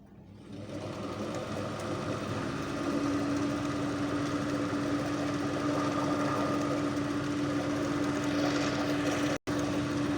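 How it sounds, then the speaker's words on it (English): A universal AC series motor runs continuously on AC power, a steady close whirring hum with a sustained tonal whine, holding even throughout apart from a momentary dropout near the end. "Now let's start the motor."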